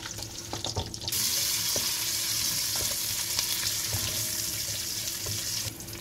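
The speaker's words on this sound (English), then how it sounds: "Now that our curry leaves are nicely sizzling, as you can hear, we'll get in an onion" Curry leaves and sliced onion sizzle loudly in hot oil, a steady bright hiss that starts abruptly after a few seconds of quieter clatter.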